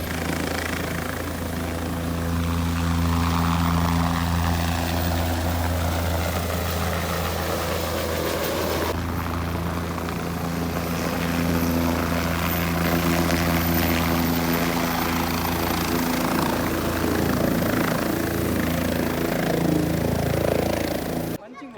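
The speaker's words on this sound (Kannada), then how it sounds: "ಸೊ ಹೆಲಿಕಾಪ್ಟರ್ ಫ್ಯೂಯಲ್ ಪಾಡೊಂದುಲ್ಲೆರು ಇತ್ತೆ ಒಂಜಿ 5 ನಿಮಿಷ ಹೆಲಿಕಾಪ್ಟರ್ ಸ್ಟಾರ್ಟ್ ಆಪುಂಡು" A helicopter engine runs steadily at close range before a joyride at the Karkala Utsav, a continuous loud turbine and rotor drone with people talking faintly beneath it.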